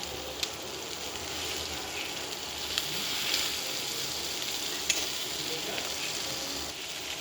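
A pre-fried fish head goes into a pan of spiced, sautéed ingredients, setting off a soft, continuous sizzle and crackle with a few sharp pops and scrapes scattered throughout, fairly quiet and with no voices.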